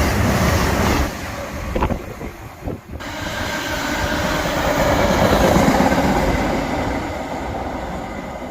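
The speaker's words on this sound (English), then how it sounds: "So freight train has managed to squeeze through on the timetable" A freight train rumbles past close by, a loud, continuous roar of rolling wagons with a few clanks and heavy wind buffeting.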